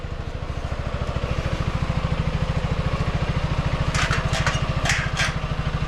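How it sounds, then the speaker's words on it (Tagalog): A motorcycle engine idles steadily close by, its rapid even low putter continuing throughout, with a few faint metallic clinks near the end. "Tapos itong motor ko pinaandar ko guys para hindi mag-drain yung battery."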